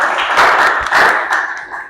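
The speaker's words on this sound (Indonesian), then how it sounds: "Ya, tepuk tangan dulu." Students clapping together in a classroom lesson, a loud close burst of many hands in quick, slightly uneven rhythm that swells and eases over a couple of seconds, with no talking over it.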